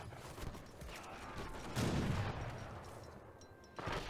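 Artillery and gunfire in the strategy game Age of Empires III, a rolling burst of booming shots and crackling volleys mid-clip over a busy battle bed, with another sharp report at the end.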